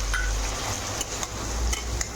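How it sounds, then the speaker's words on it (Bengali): A ground paste of ginger, garlic, chilli and cumin fries in a pan, giving a steady close sizzle with light, evenly spaced stirring taps against the metal. "এবার শুকনো শুকনো করে ভেজে নেব"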